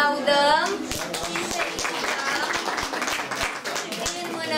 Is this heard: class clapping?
yes